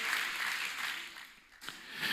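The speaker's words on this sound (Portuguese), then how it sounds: "Quem pode aplaudir o Senhor nesta manhã, aplauda o Senhor" Church congregation applauding the Lord during a Portuguese-language service, a dense wash of clapping that swells, dips briefly and rises again, fairly close and continuous with no voice over it.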